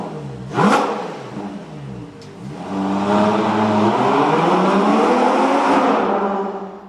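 Ferrari Purosangue V12 engine revving hard, one sharp blip followed by a long sustained rising roar, loud and close with no talking.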